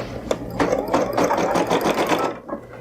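An embroidery sewing machine starts stitching, a fast, steady mechanical whirr of needle strokes that runs for a couple of seconds before it stops, close and clear.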